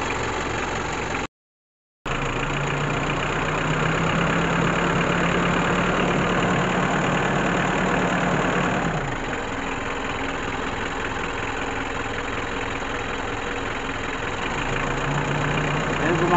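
A 2003 Hyundai Starex van engine runs after a part replacement, idling at high RPM with a steady hum and tonal whine, then the revs audibly drop partway through to a lower, rougher idle, close by and alone.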